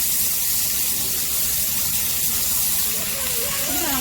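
Fish frying in butter on a hot tawa, a steady loud hiss and sizzle running throughout without pause.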